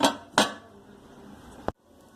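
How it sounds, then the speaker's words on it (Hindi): Lid placed over a pot of fish karahi: a couple of sharp metallic clanks of metal on metal, a brief rattle, then a final knock as the lid settles, close and alone. "अब इसको 1 मिनट के लिए सिर्फ मैं ढाँप के रखूंगी।"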